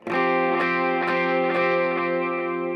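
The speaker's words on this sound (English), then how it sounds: "I'm usually just kind of big chords, a little bit of delay and reverb" Sustained distorted electric guitar chords ring out loudly, with echoing repeats and a washy reverb tail filling the space.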